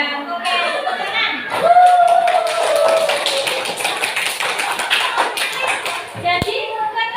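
A class of children clapping their hands in a classroom, a brisk burst of overlapping claps with a teacher's voice and children's chatter mixed in.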